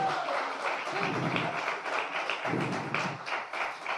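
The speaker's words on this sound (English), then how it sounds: "You can continue clapping while I'm catching my breath" Audience applause with steady clapping at a bartending competition semi-final, dense and continuous at moderate loudness with a few brief dips.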